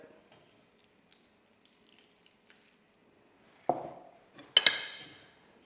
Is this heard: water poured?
yes